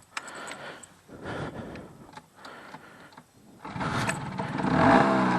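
A 2008 Genuine Stella scooter with a Cetos exhaust being started: a few ticking, clicking attempts, then the engine catches and revs up, rising steadily louder toward the end.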